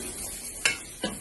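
Masala for chicken korma is stirred in a pan, producing two quick, close scraping strokes over a faint background hiss.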